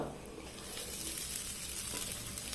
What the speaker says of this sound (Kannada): ತೆಂಗಿನಕಾಯಿ ತುರಿಯನ್ನು ಕೂಡ ಹಾಕಿಕೊಂಡು ಒಂದು ಸ್ವಲ್ಪ ಕಲರ್ ಚೇಂಜ್ ಆಗುವ ತನಕ ಇದನ್ನು ಫ್ರೈ ಮಾಡಿದರೆ ಆಯಿತು